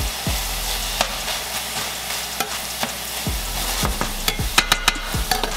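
Vegetables frying in a pan with a constant close sizzle, punctuated by clacks and scrapes from stirring, the knocks growing more frequent toward the end.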